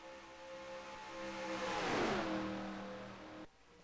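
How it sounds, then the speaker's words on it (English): A pack of about eleven race cars in a Daytona 500 racing video game roars past, engines swelling to a peak then dropping in pitch as they sweep by, loud and close with no talk. "we got about an 11-car pack racing for the lead and the win"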